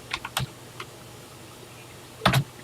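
Keys clack on a TI-99/4A home computer keyboard: a quick cluster of sharp clicks at the start, one lone tap, then a brief double stroke near the end, close and crisp over quiet room noise.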